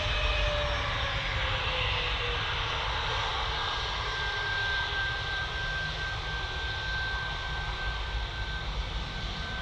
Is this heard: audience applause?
no